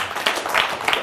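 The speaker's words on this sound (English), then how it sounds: "Please give me Ian a big round of applause." Audience applause at a live magic lecture, a short burst of clapping from a small crowd, fairly close and dense.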